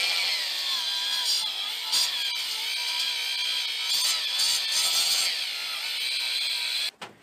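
Angle grinder fitted with a diamond abrasive wheel cutting a groove into spring wire in a home garage, a loud steady high-pitched grinding whine held for about seven seconds, then stopping abruptly near the end.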